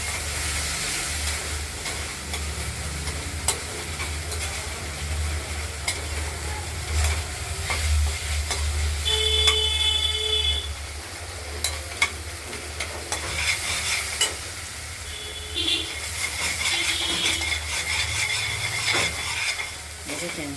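Mooli greens fry in oil with ginger paste being stirred through, a steady sizzling hiss with repeated spatula scrapes and taps against the pan, close and continuous with no talking.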